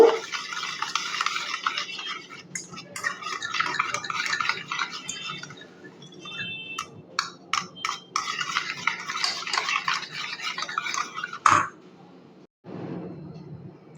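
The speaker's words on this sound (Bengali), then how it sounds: "আমি লেবুটা হাতে নিয়ে রসটা চিপে দিচ্ছি আপনারা রসটা বের করেও কিন্তু দিতে পারেন খুব ভালো করে নেড়ে নেব" Lemon juice being stirred into mango cake batter in a bowl, with irregular scraping and swishing strokes, occasional utensil clinks against the bowl, close and fairly quiet, ending with a short pause.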